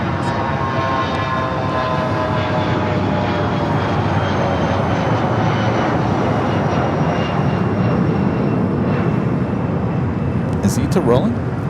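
An ITA Airways airliner's jet engines roar on its takeoff roll at Los Angeles International Airport. The engines make a loud, steady, sustained rumble and whine, and a brief chirp cuts through near the end.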